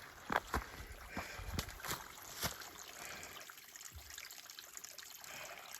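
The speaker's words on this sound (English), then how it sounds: "I have a water supply piped right out of this spring." Water trickles from a pipe fed by a mountain spring at a trail shelter, a soft, steady outdoor dribble with a few louder splashes and knocks early on before settling into a quieter stream.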